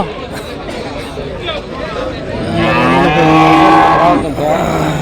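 Cows and calves mooing loudly at the Punganur cattle market, several drawn-out calls overlapping amid crowd chatter and the background noise of a busy market.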